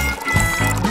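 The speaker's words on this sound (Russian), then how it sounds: "Знаю, знаю, нужно налить на сковороду масло и нагреть его." Cooking oil pours from a bottle into a frying pan in a kitchen, a short, loud, steady gushing stream that rises slightly partway through, with no voices.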